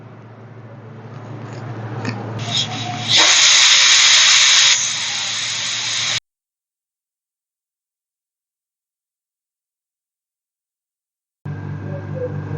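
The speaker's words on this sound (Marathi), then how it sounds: "आणि कुकर लावून घेऊ" A pressure cooker holding chicken biryani lets out a loud, close hiss of steam that surges and then holds steady before a cut to silence, and a shorter burst of hissing returns at the end.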